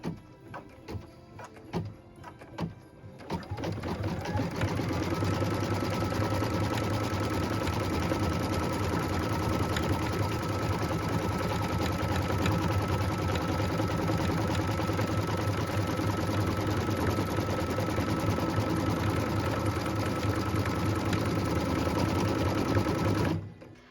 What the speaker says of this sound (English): we can go ahead and stitch that tack down line